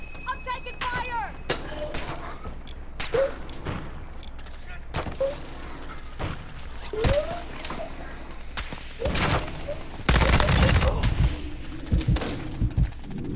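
Gunfire in the video game Call of Duty Modern Warfare II, sharp rapid shots and bursts scattered through the stretch, heavier near the end, mixed with game effects and players talking.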